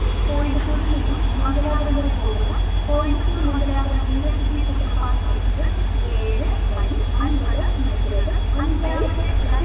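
Kannur–Thiruvananthapuram Jan Shatabdi Express rumbles steadily past at close range, with a continuous low drone and rhythmic clatter throughout, under faint background voices.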